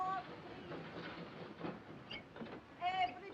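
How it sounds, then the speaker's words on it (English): A train pulls out on a 1940 night train to Munich, giving a rumbling, clattering motion with brief high whistle-like squeals, and voices are heard over it. "The train is leaving."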